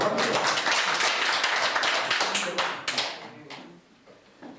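Audience applause at a meeting between Ahn Cheol-soo, leader of the People's Party, and a Christian association in Busan: dense clapping swells, holds steady, then thins and fades out over the final second.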